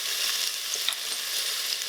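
Onions and ginger sauté in hot oil in an Instant Pot, giving a steady, close hiss and sizzle throughout with no voices.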